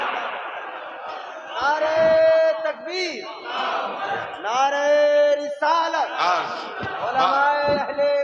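A large crowd at a religious gathering shouts back the Naara-e-Takbeer call in loud, rising chanted cries, several voices overlapping in repeated waves.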